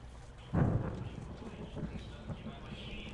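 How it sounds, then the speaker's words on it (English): Distant thunder in the video game Firewatch, a single soft low rumble rising suddenly and then trailing off quietly under faint ambient forest sound. "Oh, that was thunder."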